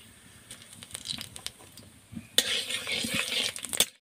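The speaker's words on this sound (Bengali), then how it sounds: "পাঁচফোড়নটা হালকা একটু ভাজা হয়ে গেলে দিয়ে দেবো একটা শুকনো লঙ্কা।" Panch phoron spices hit hot oil in a pan, starting with a few light clicks and taps, then bursting into a loud sizzling crackle for the last second and a half.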